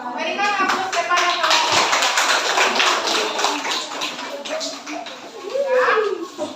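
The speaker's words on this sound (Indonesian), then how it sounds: "Berikan aplaus kepada" A classroom audience of children claps, a dense patter of many hands lasting several seconds, mixed with kids' voices and chatter nearby.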